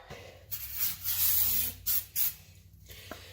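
Spray cleaner hisses onto the outer surface of a 2013 Nissan Armada wheel hub in several close bursts, one long spray followed by two short quick ones.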